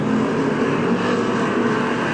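Late model race cars roar steadily down a speedway front straightaway, a dense, even engine drone filling the whole stretch with no talk.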